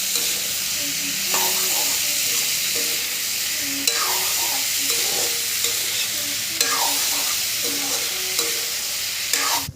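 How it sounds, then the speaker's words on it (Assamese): Onion frying in hot oil makes a loud, close, continuous hiss and sizzle, with stirring scrapes and faint background sounds over about ten seconds. "এতিয়া তেলটো গৰম হ'লে পিঁয়াজটো দিম"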